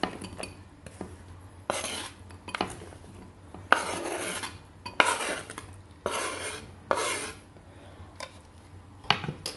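Diced onion is tipped into a bowl of tuna and mixed in with a utensil, giving a series of scraping, clinking stirs and soft rustles, close and moderately loud with brief gaps, no talk.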